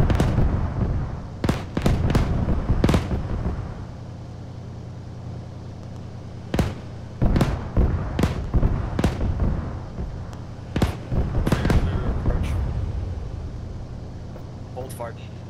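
Bursts of gunfire from a military squad unloading on a spotted target, several sharp loud shots and short volleys spread across the stretch with pauses between, over a steady low engine hum.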